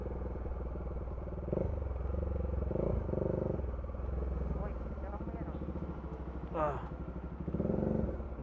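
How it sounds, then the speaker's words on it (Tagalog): A motorcycle riding past on a road in Bulacan, its engine rumble continuous and moderately near beneath the steady drone of the rider's own bike, with someone talking over it. "Ayun, may nakamotor din eh."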